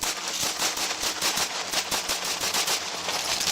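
Police officers fire their guns at a drunk driver in a rapid volley of loud, close shots, cracking in quick succession over the whole short stretch with no talking.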